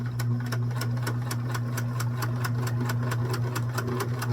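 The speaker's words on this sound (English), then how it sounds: "I'm going to back stitch a little." A sewing machine back stitching while sewing a dress with an applied collar, Simplicity 3522 pattern, runs in a steady fast rhythmic clatter over a constant motor hum, close and alone throughout.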